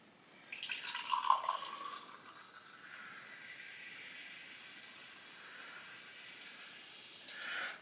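Canned pre-mixed Mojito poured into a glass: a soft fizzing, hissing pour that rises at the start, then settles into a steady faint carbonated hiss before a slight swell near the end, with no talking.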